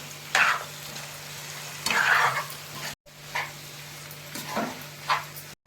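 Boiled tomato paste goes into a pan of frying chicken curry, giving several bursts of close sizzling and stirring with brief pauses between, the frying hiss swelling as the paste hits the hot oil.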